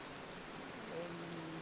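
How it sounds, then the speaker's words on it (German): Rain falls steadily in the survival strategy game Sapiens, a soft, even wash of pattering noise that stays constant and fairly quiet throughout, with a faint tonal hum running beneath it. "Es regnet wieder."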